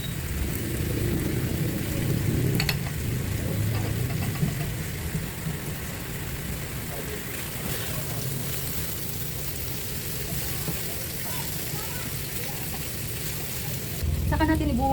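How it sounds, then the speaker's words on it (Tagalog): Garlic and then onion sautéing in oil in a pan for a homemade pork steak, a steady sizzle with clattering stirring that is louder at the start and end. "Saka natin igisa ang bawang. Sunod natin ang ating sibuyas."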